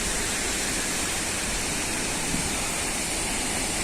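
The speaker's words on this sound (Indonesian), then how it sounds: "Inilah air terjun Kedabuhan" The Kedabuhan waterfall on the Lae Kombih river roars as a dense, constant rush of falling water, loud and unbroken with no voices.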